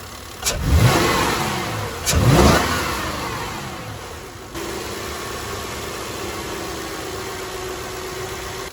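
A Toyota Sequoia SUV engine, running slightly rough, is revved sharply twice, each burst rising then falling away, before settling into a steady, slightly uneven idle hum.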